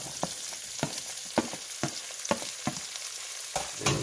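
Shredded carrots, onions and peppers frying in a pan for Creole cabbage, a steady close sizzle broken by repeated short stirring scrapes and clicks.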